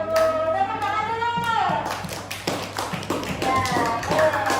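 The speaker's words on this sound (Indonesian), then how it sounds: "Tepuk tangan dulu." A classroom audience of children claps for a pupil named Nurul, a quick patter of hand claps running under a teacher's ongoing speech, with the clapping fairly close and steady throughout.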